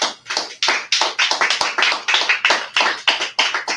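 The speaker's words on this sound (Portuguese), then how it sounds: "As palmas adoram o Eterno." A worship congregation clapping hands in praise, a loud, regular rhythmic beat of unison claps, about three per second, close and sustained without voices.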